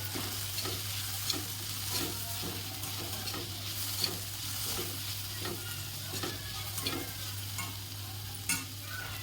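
Masala sautéed in a pan for poha, with a steady close sizzle of frying and the repeated light scrape and clink of stirring.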